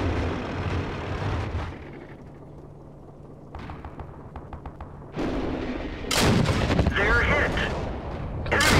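The T1E6 tank's gun fires in World of Tanks: a few heavy, booming shots with sharp cracks after a quieter stretch, under someone commentator's voice.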